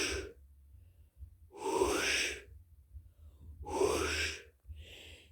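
A voice imitates the breathing of an air tank connected to a face hose: two long, loud, hissing breaths with a gap between them, then a softer third breath trailing off.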